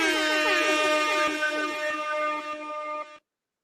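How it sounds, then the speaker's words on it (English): A loud, brassy air horn sound effect blares in pulsing bursts for about three seconds, then cuts off abruptly into silence. "I'm going to do the air horn."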